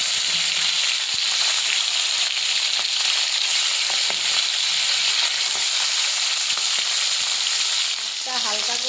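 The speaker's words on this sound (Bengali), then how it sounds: "এবার মাছটা ভেজে নেব।" Hilsa fish frying in hot mustard oil in a kadai gives a steady, dense sizzle and crackle throughout, close and continuous, with a brief clink near the end.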